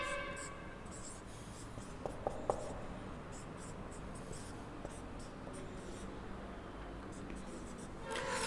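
Marker or chalk strokes on a board during a chemistry lesson, quiet scratchy scribbles with a few sharper taps, heard close over a soft background hiss.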